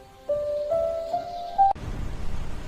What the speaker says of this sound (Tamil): ஒரு நாள் புயல் வந்தது.